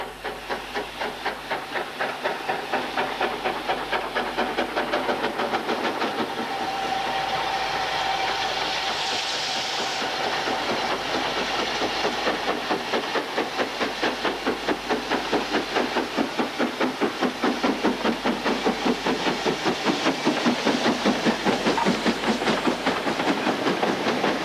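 LMS Duchess steam locomotive 46229 working on a heritage railway, a continuous rhythmic chuffing and wheel clatter with hiss, sustained and fairly close throughout, no talk.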